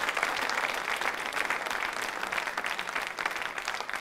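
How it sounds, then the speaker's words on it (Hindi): Sustained applause from an audience at an award presentation during a hospital quiz show, dense and steady throughout with no talk over it. "तालियां जोरों से बजाइए उनके लिए आप।"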